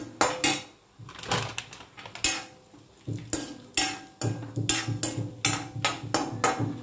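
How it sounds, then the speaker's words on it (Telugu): Metal spoon clanking and scraping against a pan as cashews fry for semiya payasam, a steady series of sharp knocks and clatters close up with no talking. "జీడిపప్పు ఆడకుండా దగ్గరగా వేయించుకోండి."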